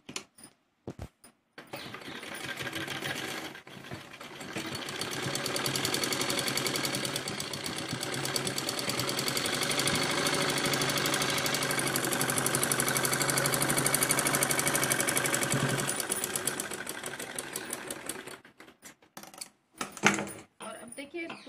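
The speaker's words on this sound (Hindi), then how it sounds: "सीधा करके इसके ऊपर सिलाई लगाएंगे दबाने वाली" A sewing machine runs a long steady stitching pass on fabric for men's shorts, a fast continuous mechanical chatter lasting over fifteen seconds, starting and stopping with brief clicks.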